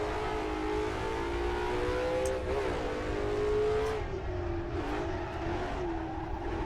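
A Ford Boss 302 racing car in Assetto Corsa revs and shifts, a loud droning engine note rising and falling through gear changes, close and continuous without talk.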